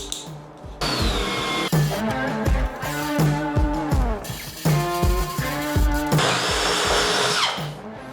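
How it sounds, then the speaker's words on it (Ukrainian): A DWT ASBP 20 cordless drill/driver bores with a 13 mm bit, its loud motor whining in repeated bursts that ramp up and down in pitch, with short pauses between runs and no speech. "Так, тепер сверло 13 мм"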